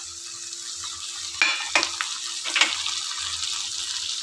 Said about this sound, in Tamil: நல்லா பொன்னிறமாகிற வரைக்கும் வதக்கிங்க